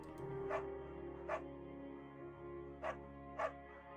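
A dog barks in the video game Firewatch: four short, clear woofs in two pairs, spaced over a few seconds above a low, steady game ambience, with no talking.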